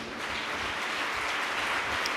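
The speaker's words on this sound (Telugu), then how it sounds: "చప్పట్లు కొట్టండి." Audience clapping hands together at a prayer service, a dense steady wash of applause filling the space for a couple of seconds with no talk over it.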